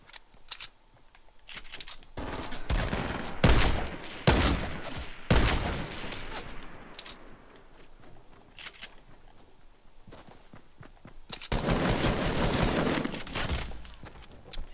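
Bursts of rapid video-game gunfire come in loud clusters with quieter gaps between them, sharp cracking shots rising and fading across a tense solo-squad match.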